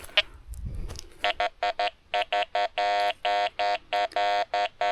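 A Quest X10 metal detector beeps on iron in a rapid series of buzzy, harmonic tones, some short and some longer, after a brief rustle at the start.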